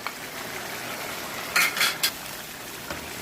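Whole cumin and ground dried coriander roast in a pot for cauliflower and mutton curry, a soft low hiss under a few quick scraping stirs and metallic clinks clustered near the middle.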